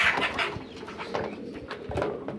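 Chickens in a small backyard chicken farm of about fifty hens in Qatar, soft clucks and murmurs close by against a quiet background, no talking.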